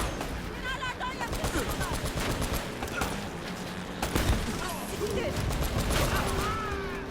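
Continuous gunfire from Uncharted: Drake's Fortune, rapid overlapping shots and blasts stacked close together throughout, loud and busy, with a player's voice faintly under the shooting.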